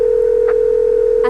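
A steady telephone dial tone hums continuously while a call is being placed, loud and close, with a couple of faint brief clicks partway through.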